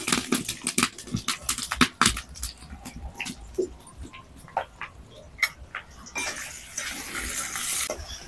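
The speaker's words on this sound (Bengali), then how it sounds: "তেলটা গরম হয়ে গেছে, এবার দিয়ে দিচ্ছি পেঁয়াজ কুচি।" Chopped onions go into hot mustard oil in a wok, giving scattered pops and clinks of a stirring spoon at first, then a steady, loud sizzling hiss near the end.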